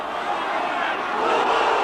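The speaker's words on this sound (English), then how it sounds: "The crowd beneath me over this side of the pitch didn't approve" A rugby league crowd at a Castleford versus Warrington match roars in broad disapproval after a tackle, a dense, loud wash of massed voices swelling slightly toward the end.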